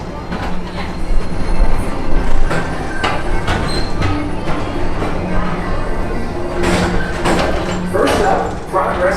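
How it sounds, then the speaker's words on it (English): Disney PeopleMover train rolling steadily along its elevated track, a continuous rumbling ride with faint wheel squeals and clicks, heard under a narrating voice. "Don't worry, your express train keeps on rolling through the future."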